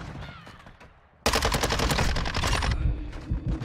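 Rapid automatic gunfire in a first-person shooter match during a 70-kill challenge, breaking in suddenly and loud after a quieter stretch of scattered shots, then sustained bursts for about two seconds before tapering.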